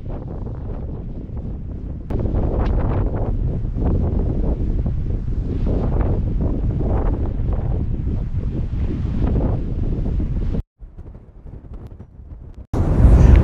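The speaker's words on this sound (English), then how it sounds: "The wind is just incessant" Strong wind buffets the microphone on a pier during sea fishing, a continuous rushing roar that briefly cuts out near the end before gusting back in louder.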